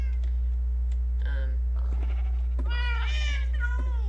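Sheep bleating in a Minecraft barn, several short wavering calls scattered over a steady low hum, the loudest bleat sounding near the end, with faint talk mixed in.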